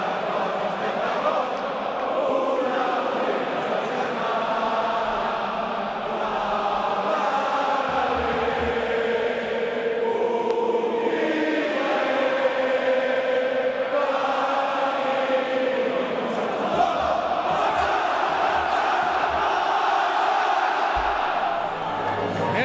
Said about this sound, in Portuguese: 98 mil torcedores cantando o hino do Barça